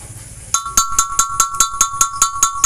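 A punch tool is hammered against the seat of a cylinder liner on a diesel engine. About a dozen sharp metallic strikes ring out near and loud in a steady, quick rhythm, with no talk.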